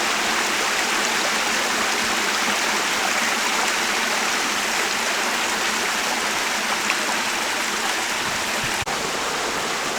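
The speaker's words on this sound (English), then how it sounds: "And he doesn't have a good little waterfall." Small waterfall spilling into a stream, a steady close rush of splashing water that stays even from start to finish, with no talking over it.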